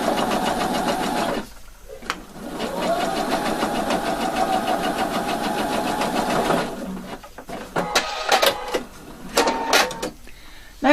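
A sewing machine stitches along a template in a steady, fast mechanical whir with a rapid rhythmic clatter, stopping abruptly, then a few shorter bursts of stitching mixed with handling clicks nearby.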